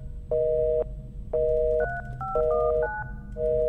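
Keypad tones on a telephone in the horror game Luto, a rapid run of loud dialing beeps of varying pitch with brief gaps, over low ambient rumble and no talking.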